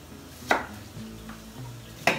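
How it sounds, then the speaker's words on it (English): A knife cuts through an onion on a board in two sharp, separate chops about a second and a half apart, close and fairly quiet against a low background hum. "So I'm just gonna slice up this onion."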